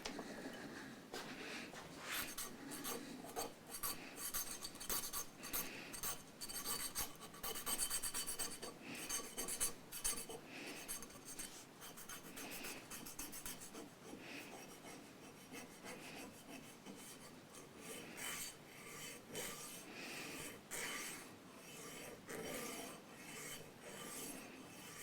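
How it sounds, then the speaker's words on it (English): Steady rhythmic rasping of sandpaper worked back and forth over a wooden piece, close and continuous for about twenty-five seconds with no talk. "Now this is too big, but we can sand it down."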